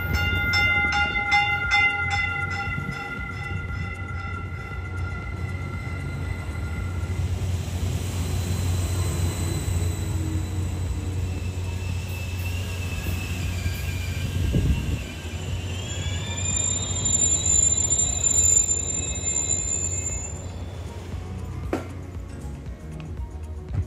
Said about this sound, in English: The doors slide shut, and our train departs up the Peninsula Corridor.